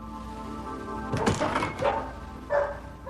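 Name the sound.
dog barking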